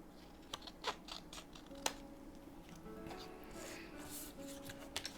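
Scissors snip through scrapbook paper in soft, irregular cuts at close range, each crisp snick separated by light rustling and handling noise in a quiet room.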